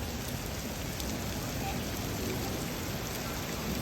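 Steady rain falls at night, a dense, even hiss of drops on surfaces that continues unbroken at moderate loudness.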